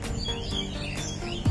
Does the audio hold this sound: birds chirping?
yes